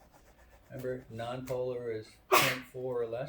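A single sharp, loud sneeze bursts out in a lecture hall, cutting briefly into a lecturer's ongoing speech.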